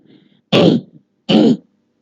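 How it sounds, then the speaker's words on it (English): Two loud, close throat-clearing coughs from a woman, each lasting about a quarter second and spaced roughly a second apart, preceded by a faint low murmur. "I really have cough."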